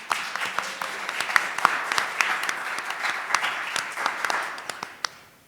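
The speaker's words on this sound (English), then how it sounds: "I want you to give all these folks a round of applause." An audience at a mental health association winter meeting claps steadily for a standing committee, a dense, sustained round of applause that thins and fades out at the end.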